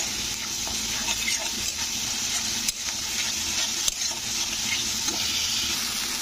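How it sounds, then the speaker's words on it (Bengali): Ginger garlic paste fries in a pan, a loud steady sizzle with occasional scrapes and clicks of a spoon stirring it, close up and without talk. "তো দিয়ে এটাকেও কিন্তু নাড়তে হবে যতক্ষণ না এর গন্ধ পাচ্ছে।"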